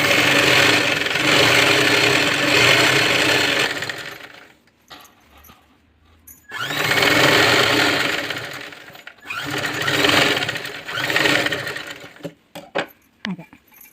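A sewing machine runs in three loud bursts of rapid stitching on a fringe-cut dress, with short quiet gaps and small clicks between runs.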